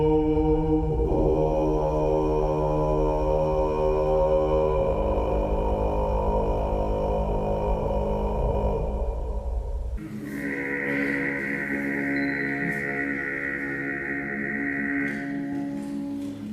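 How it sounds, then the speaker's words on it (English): Subharmonic vocal technique, an organized vocal fry singing voice producing a deep buzzing drone with rich rough overtones, sustained and close, shifting timbre about two-thirds through, alone without speech. "is the subharmonic vocal technique."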